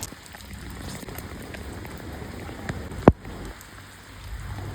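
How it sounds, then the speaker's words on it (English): A rain downpour in Delhi makes a steady, dense hiss of drops drumming on surfaces, with one sharp click partway through and no talking. "Can you hear the downpour?"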